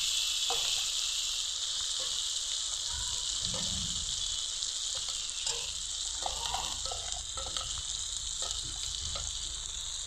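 Ground spice paste for a mustard rohu fish curry sizzles in a pan after tomatoes have been cooked down, a steady bright hiss with occasional soft stirring knocks.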